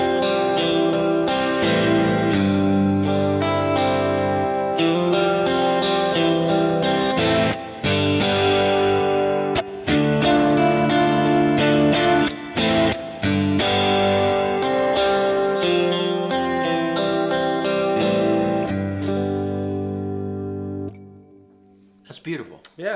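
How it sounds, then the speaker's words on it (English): An electric guitar played through a Kemper amp profiling a Vox AC50, with chorus effect at a 60% mix, rings out in lush, watery sustained chords and notes, loud and close, trailing off at the end. "This is a Vox AC50 profile with some chorus on there,"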